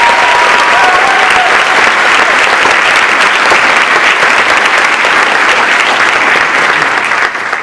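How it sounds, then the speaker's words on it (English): Steady, loud audience applause at a university evening talk, dense clapping filling the whole stretch without a break and fading slightly at the very end. "So let's give them an applause."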